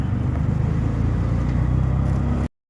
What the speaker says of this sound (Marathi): इथून रिक्षाने आपण चाललो आहे